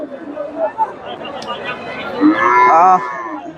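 A Friesian heifer lows in a long, drawn-out moo near the end, with people talking and general chatter around it at a cattle market in Bogura, Bangladesh.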